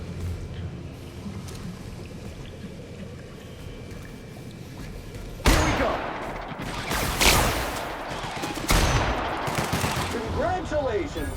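Gunfire in The Outer Worlds, Spacer's Choice Edition, in a chem lab: several loud bursts of shots break in after a quiet stretch and recur over ambient game noise, with speech present.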